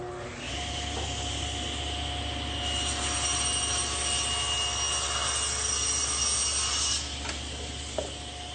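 Table saw cutting a tongue on a breadboard edge, blade set shallow near the fence: a loud continuous high whine of the blade biting wood, steady for several seconds before spinning down, with a brief knock near the end.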